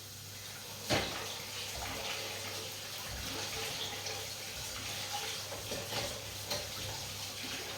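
Three-colour sweet peppers get washed under running water, a steady close splashing stream with small knocks and a sharper splash near the start, and no talk.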